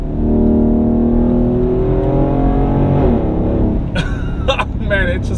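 Mercedes-Benz ML550 SUV engine pulling hard, a loud, close note rising steadily in pitch before an upshift drops it, followed by a few sharp clicks and rattles.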